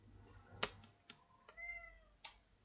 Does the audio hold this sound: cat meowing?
yes